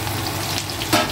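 Thinly sliced onion frying in oil with cumin gives a brief, steady sizzle close up, with a small scrape or clatter near the end and no talking.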